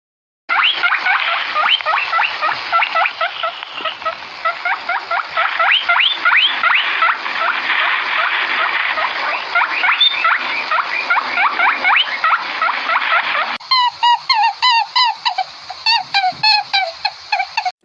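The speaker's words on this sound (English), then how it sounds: "Rabbit." A rabbit squeaks and grunts in a rapid, continuous chatter that stays loud and close, then switches to a sharper, evenly spaced run of calls near the end, with no other sounds.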